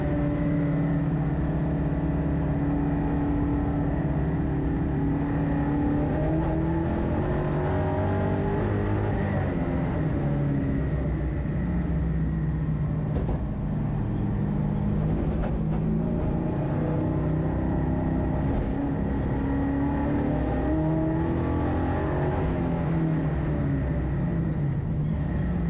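Onboard a race car taking turn 1 at Hampton Downs, the engine drones loudly and continuously, its pitch sliding down and climbing again through gear changes, with no talking over the steady roar.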